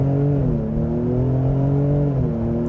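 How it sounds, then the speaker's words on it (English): A 2025 Lincoln Aviator Reserve in Excite Sport mode pulls away hard from a brake-torqued launch toward 60 mph. The loud, close engine climbs in pitch, dips briefly at a quick gear shift, then climbs again. "So let's go ahead and see what the Aviator can do."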